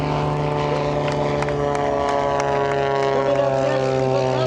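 A Samaritan Aviation seaplane passing at the Oshkosh seaplane base during an airshow, its propeller engine droning as a loud steady tone with shifting pitch as it goes by, with faint crowd sounds underneath.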